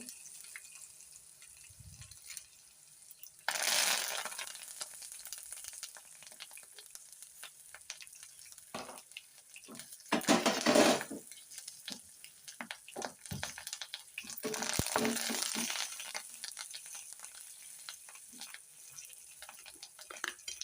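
Tempering with curry leaves spits and crackles in hot oil for gongura chutney, with brief louder sizzling bursts and sparse ticking against a quiet background.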